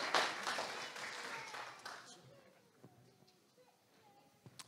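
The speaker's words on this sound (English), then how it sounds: "Can we give them a round of applause?" A church congregation at a Sunday service gives a round of applause, loud at first and then thinning into scattered claps that fade away over a quiet room.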